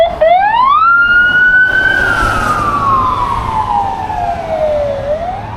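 A loud police siren in Nauru sweeps up and slowly wails back down, close and passing, drowning out other sounds.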